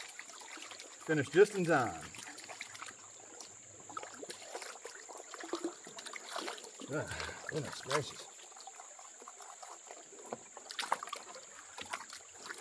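Water sloshes and swirls in a gold pan while panning pay gravel outdoors, with rhythmic washing surges and trickling, close and moderately loud, as someone talks over it.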